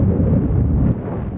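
Strong wind buffets the microphone on a golf course, a loud, low, continuous rumble with no other distinct sounds.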